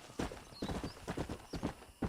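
Horse hooves clip-clop on the ground in the Red Dead Redemption video game, a brisk irregular run of hoof strikes close by, with a faint whinny layered in and quiet game sound beneath.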